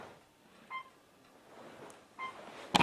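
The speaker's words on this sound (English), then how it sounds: "So it's the phone that's dying." A phone with a dying battery gives two short, faint electronic beeps about a second and a half apart, followed by a sharper click or knock at the end, with no talk.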